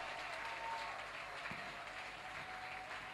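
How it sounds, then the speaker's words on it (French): A church congregation applauds for the Lord in a faint, steady wash of distant clapping that holds evenly throughout. "Applaudissez très fort pour le Seigneur"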